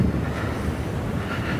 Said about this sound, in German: Hier außerhalb des Waldes kann der Wind natürlich über die Felder fegen.